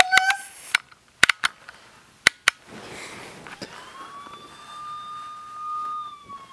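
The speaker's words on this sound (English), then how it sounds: "There's a police siren on this." A handheld toy police siren comes on after several sharp clicks and taps, settling into a steady, slowly rising electronic wail that holds for a few seconds.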